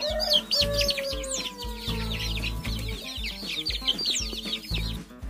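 Several hens cluck and chatter close by in a net-covered coop where they roost at night, overlapping continuously, with low thumping and rustling noises underneath.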